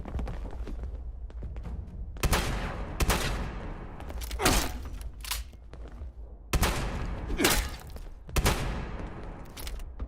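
Shotgun blasts in Fallout 76, several loud, sharp single shots spaced a second or two apart, some in quick pairs, each trailing off with a short echo over a low game ambience.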